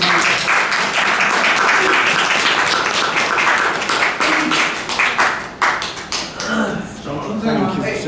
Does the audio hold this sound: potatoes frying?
no